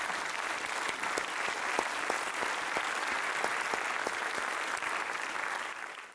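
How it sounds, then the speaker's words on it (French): A conference audience claps steadily. Dense, sustained applause from a crowd fills the room with a few sharper individual claps, and it fades slightly at the end. "Ça mérite un applaudissement pour tous ceux qui y travaillent."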